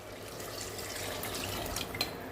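Water is poured into a pressure cooker of rice for chicken biryani, a quiet continuous trickling and splashing stream close by with a small splash near the end.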